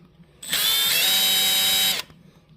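A small power driver with a 2 mm bit backs out a motor mount screw on a Losi Mini LMT RC car, giving one steady whirring burst of about a second and a half, loud and close.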